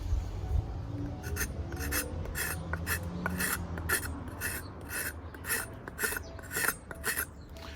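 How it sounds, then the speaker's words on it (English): A Darien machete blade scrapes across the grain of a roughly carved wooden spoon, producing repeated rasping strokes in a steady rhythm, close and moderately loud, with no talking. "I'm going to start to scrape down and use it as a scraping tool"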